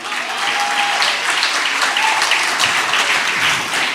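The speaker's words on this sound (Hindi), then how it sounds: "जोरदार तालियों से इस्तकबाल कीजिए साहब।" Sustained applause from a mushaira audience welcoming the poet Mehshar Afridi, a dense even wash of clapping throughout with only faint traces of other sound.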